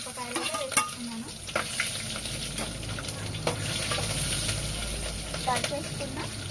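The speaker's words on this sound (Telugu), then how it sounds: "ఉల్లిగడ్డలు వేసేసుకుంటున్నాను." Onions and green chillies sizzle in hot oil in a home kitchen, a steady frying hiss broken by scraping stirs and light clinks of the spoon against the pan.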